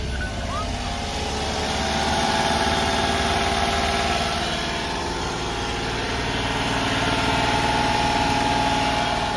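A JDM two-wheel-drive four-speed vehicle's engine runs in a steady, close idle with a constant broadband drone, and a faint high-pitched beeping tone sits above it throughout.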